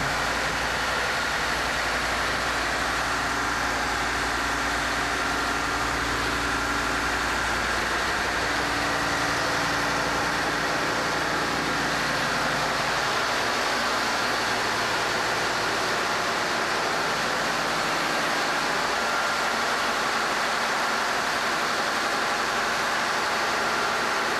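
A loud, constant mechanical drone of a 400-horsepower ship engine running nearby in the engine room of an Indonesian pinisi, a steady low rumble with broadband hiss that never lets up.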